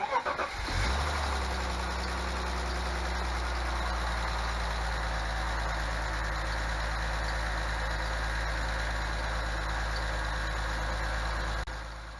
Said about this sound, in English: The valve train noise is actually worse.